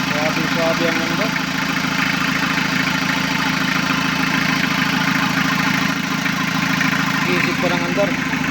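A 1991 Toyota Hilux 3L diesel idles loudly and steadily up close, its noise raised because the air cleaner pipe is detached, with someone talking over the even engine rumble.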